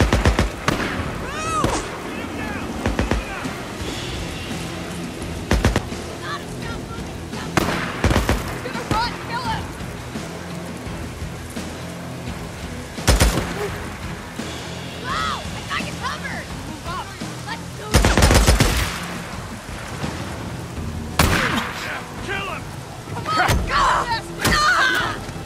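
Gunfire exchanges in the Days Gone video game during a railway ambush camp fight, with sharp shots and thuds scattered irregularly across the scene, several loud bursts standing out over background game noise and someone talking.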